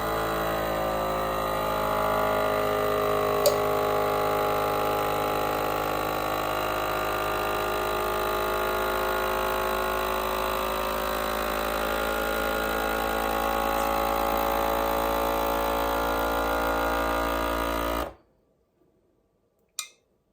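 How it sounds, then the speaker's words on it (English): A FoodSaver vacuum sealer motor hums steadily for about eighteen seconds as it pumps air from a wide-mouth jar, then cuts off abruptly, leaving near silence with a small click at the end. "Then I'll turn my food saver and hit vacuum and seal."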